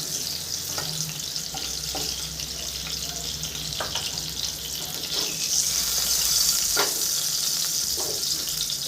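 Pointed gourd frying in hot oil, a continuous hiss of sizzling with occasional soft clicks of turning pieces, growing slightly louder and brighter partway through.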